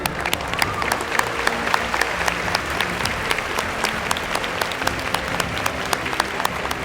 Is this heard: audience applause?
yes